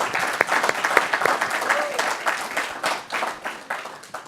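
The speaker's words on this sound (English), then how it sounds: "we have give her a big round of applause" An audience at a college symposium on immigration applauds the speaker with brisk, dense clapping that starts strong and gradually thins toward the end.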